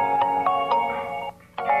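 An IP video intercom call ringing on a phone, a loud repeating electronic ringtone of tonal chimes with brief pulses, broken by a short gap before it resumes.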